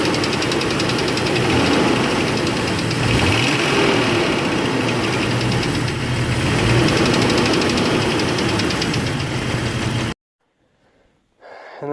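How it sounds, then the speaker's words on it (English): Noisy turbocharged Jeep engine running close by, a loud continuous rattling and knocking idle with a steady rhythm that stops abruptly, followed by near silence. "I'll see if I can actually put a video of the Jeep running like this."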